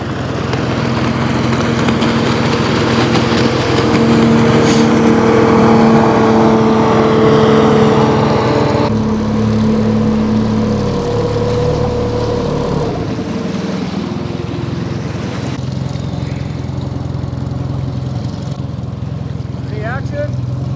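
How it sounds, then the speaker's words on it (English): A guide boat's outboard motor comes up the river, a steady loud drone with a whining tone that holds and then shifts pitch as it passes nearby, with wind and faint talk around it. "Another guide boat coming up the river apparently."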